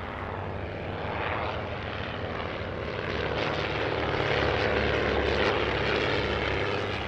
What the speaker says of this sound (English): the Hawk Speed 6, which is about to perform a solo display